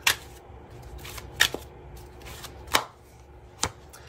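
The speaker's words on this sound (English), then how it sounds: "pulling from my yummy tarot deck here" Cards drawn from a tarot deck, heard as a few separate crisp flicks and slides spaced out over a few seconds, close up against a quiet room.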